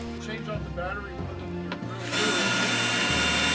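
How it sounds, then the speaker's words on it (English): Battery-powered drill drives screws through plywood into 2x4s, its motor whining up loudly and steadily after a spoken narration. "A battery-powered drill is used to drive the screws through the plywood and into the 2x4s."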